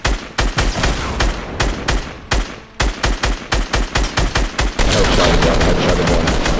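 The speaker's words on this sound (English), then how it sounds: "Here comes the rockets, baby, look out." Rapid volley of loud explosive gunfire-like blasts from incoming rockets in Fortnite Battle Royale, sharp repeated bursts in quick succession, ending in a sustained dense roar.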